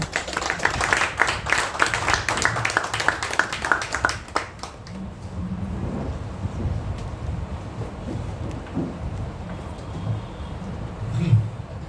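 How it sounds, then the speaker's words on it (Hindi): A crowd claps loudly to welcome a speaker named Satish. A dense burst of clapping runs for about four seconds, then thins out and fades into low room noise with scattered faint sounds. "आइए हम लोग जोरदार ताली से स्वागत करेंगे पैसा सतीश का।"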